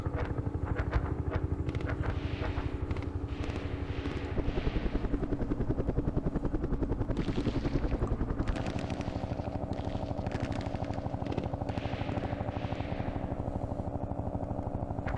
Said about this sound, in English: what I'm going to do is drop down, refuel all my helicopters.